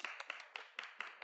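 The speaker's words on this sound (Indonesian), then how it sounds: "Ayo, mari kita beri tepuk tangan" Faint, sparse applause from a small group, about a dozen quick hand claps in an uneven rhythm heard from a distance.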